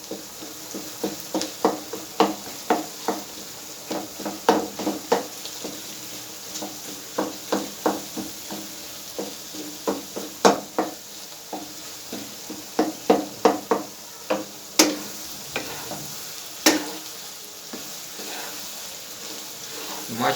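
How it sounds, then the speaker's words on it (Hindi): Eggs are stirred into tomato gravy in a hot pan for a Pakistani egg and vegetable bhujia. A soft steady sizzle runs underneath while a spoon scrapes and taps the pan again and again in a loose, irregular rhythm. "पकाऊंगा ताकि ये जो नीचे टमाटर और वो जो ग्रेवी थी उसके साथ ये अंडे अच्छी तरह मिक्स हो जाएं"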